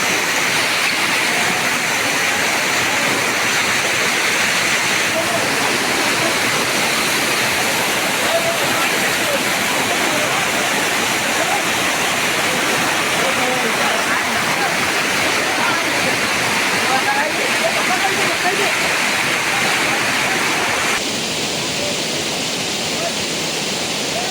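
A forest waterfall pours in a loud, steady roar of rushing water, close and unbroken throughout.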